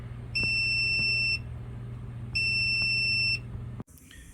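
A handheld gas leak detector, able to sense natural gas, propane and refrigerant, beeps at a leaking connection with two long, steady tones, then cuts off abruptly over a low background hum.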